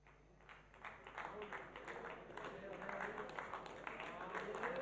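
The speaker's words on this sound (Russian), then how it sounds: "Осторожные, сдержанные аплодисменты перерастают в овацию" Snooker audience applause at a trick-shot championship, starting as restrained, scattered clapping and swelling steadily into a fuller, louder ovation across the clip.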